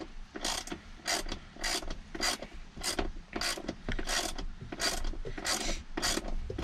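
Steady, evenly spaced ratchet clicks as a hand ratchet backs out a T45 Torx bolt from a car seat brace, close up, about ten strokes in a regular rhythm with no talking.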